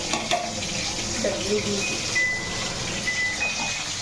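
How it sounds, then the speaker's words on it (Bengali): Malabar spinach frying in a pan at home, a steady close sizzle with faint stirring and background hiss, lasting throughout with no talk. "ভাজাটা হোক"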